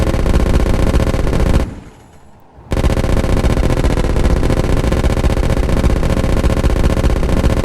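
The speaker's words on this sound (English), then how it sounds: "come on guns. Fire on this dude." Ship-mounted guns in Space Engineers hammer away at a small Reaver grid ship, a dense, loud, continuous barrage of rapid automatic fire with a brief drop-out near the start before the firing resumes at full force.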